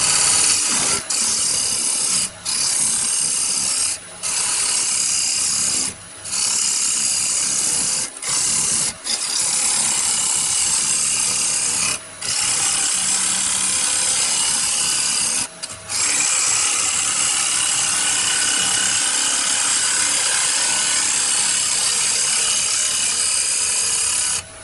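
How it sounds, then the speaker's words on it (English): A round carbide cutter shapes the rim of a cherry wood bowl spinning on a lathe, giving a continuous loud scraping rasp with brief breaks where the tool lifts off, close and without talk. "I'm using my little round carbide cutter just to shape it a bit"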